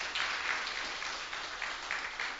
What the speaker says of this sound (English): If you could give him a round of applause for me.